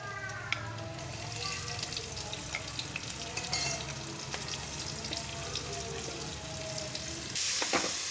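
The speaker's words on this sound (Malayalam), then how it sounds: "നന്നായി വഴറ്റുക. ഇനി ഇതിലേക്ക് സവാള ഇടുക." Onion sautéing in a pan for macaroni, a continuous loud sizzle with occasional stirring scrapes, and a brief burst of extra hiss near the end.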